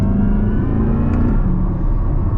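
Chevrolet Corvette C8 engine, tuned toward roughly 960 to 1,010 combined horsepower and not yet broken in, holding a loud, steady rev with a deep rumble and a slight rising whine that settles back down.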